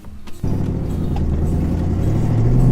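A Ford Mustang Bullitt fitted with an MGW short shifter sets off on a test drive. A click gives way to a steady, loud engine drone that climbs in pitch as the car accelerates.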